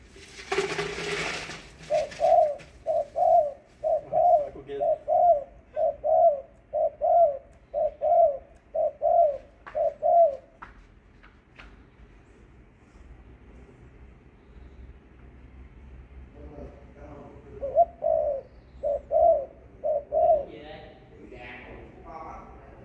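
Doves cooing in rhythmic repeated phrases, a long steady run of about a dozen coos, a pause, then a shorter burst of several more, clear and fairly close in a quiet setting.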